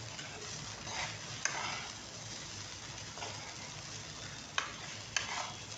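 Egg fried rice with green onion pieces is stirred in a pan over a steady soft sizzle, with a few sharp clinks of the spatula against the metal scattered through.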